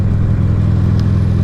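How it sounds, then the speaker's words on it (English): A 2004 Buell Lightning XB12S with a heavily modified Harley engine runs loud and close, a thick, steady low-pitched throb with no other sounds over it. "It is a very modified Harley engine."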